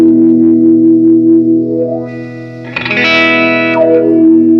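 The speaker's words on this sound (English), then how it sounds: "this should give us our most extreme range of Q motion through the motion of the wah pedal" Electric guitar through a Friedman Gold '72 wah pedal held heel down, a loud, distorted, bassy sustained chord with a brief brighter strummed swell in the middle, alone and reverberant.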